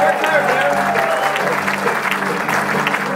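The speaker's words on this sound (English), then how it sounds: "Give applause." Audience applause for the bass player at a bluegrass show in a legion hall, a steady wash of clapping with tonal music or instrument sounds running underneath throughout.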